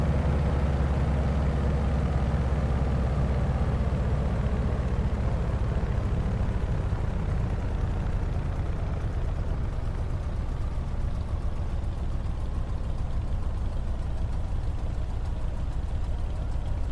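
Carenado Gee Bee Z aircraft engine idles at about 600 RPM in a flight simulator, a continuous low rumbling drone at steady volume with no voices over it.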